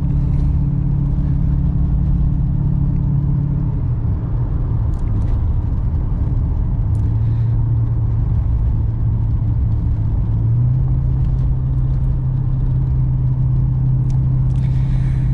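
VT 5L car driving over a rough road, a loud steady interior engine drone and road rumble with occasional knocks and bumps, the engine pitch dipping and rising slightly, no talking.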